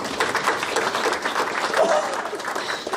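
Mourners at a memorial service clap together, a close, fairly loud burst of applause with voices mixed in.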